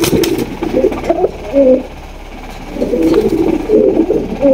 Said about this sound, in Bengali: হচ্ছে একজোড়া বোম্বাই কবুতর দেখতে পাচ্ছেন